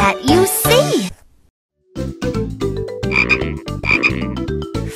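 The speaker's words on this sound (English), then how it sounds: "Frog is green." A Fisher-Price animal sounds toy gives one short, loud frog croak, then a pause and a bouncy electronic tune.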